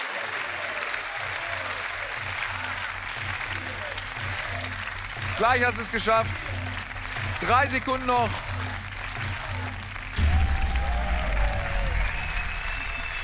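Studio audience at a German game show applauding, a broad steady wash of clapping throughout with a swell near the end, while a host speaks over it.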